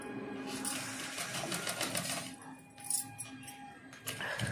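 Sewing machine stitching fabric on a blouse neckline, a quick rattling run of needle strokes that pauses and restarts, close and fairly quiet.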